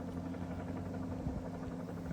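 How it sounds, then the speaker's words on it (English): A helicopter high overhead, its low rotor drone steady and distant throughout, with faint rhythmic thumping. "Do you hear that helicopter?"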